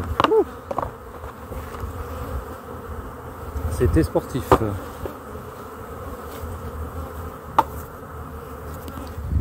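A dense honeybee colony buzzes steadily and close during a hive inspection at a production apiary, a continuous hum with occasional sharper passes, and a voice speaks briefly over it.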